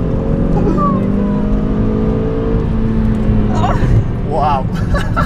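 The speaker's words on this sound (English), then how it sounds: "my favourite feature about this whole car is the acceleration" Car with a 1.4 TSI engine accelerating hard from inside the cabin, a loud steady engine drone that climbs in pitch, with brief shifts near the end and people talking over it.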